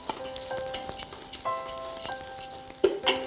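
Rice roasting in ghee in a pan for Hyderabadi biryani: a close, crackling sizzle with scraping stirring strokes and a few sharper pops.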